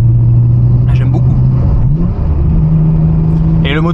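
Nissan Skyline R34 GT-R V Spec engine pulling steadily as the car accelerates, a continuous droning hum that rises slightly in pitch partway through, with brief speech over it.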